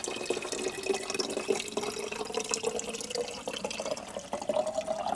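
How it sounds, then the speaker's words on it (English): Spring water flowing straight out of a mountainside makes a steady, continuous rushing and trickling sound, close by and even in level, with no voices. "really fascinating to see water just coming out of the mountainside."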